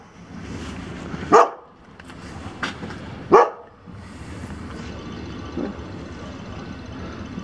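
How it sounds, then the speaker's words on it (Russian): A German shepherd dog barking outdoors in a residential yard, two loud sharp barks a couple of seconds apart with a softer one between, amid quiet background noise. "ну это же, видишь, немецкая овчарка"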